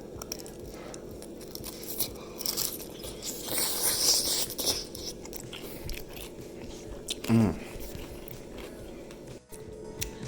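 Crunchy bite into a homemade dumpling dipped in sauce, one clear crisp crunch near the end of the bite, preceded by softer chewing and mouth noises up close in a quiet kitchen.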